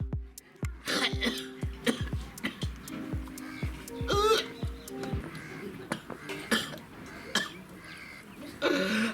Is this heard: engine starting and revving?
no